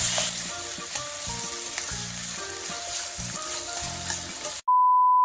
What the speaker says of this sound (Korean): 먼저 파 볶아서 파기름에다가 고기 넣고 볶아줄게요